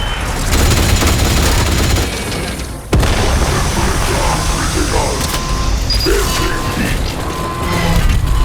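Sticky grenades detonating in the video game Atomfall: a loud boom near the three-second mark breaks up dense, rumbling combat noise, with a constant roar and clatter running on either side of it.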